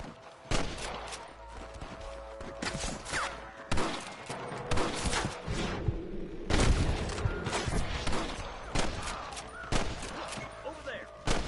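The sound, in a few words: gunshots in the video game Red Dead Redemption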